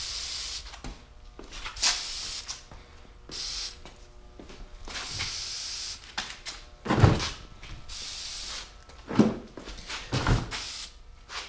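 Short, soft hisses of an aerosol oil spray coating an ATV's foam air filter repeat at close range, a few longer bursts coming later, all fairly quiet.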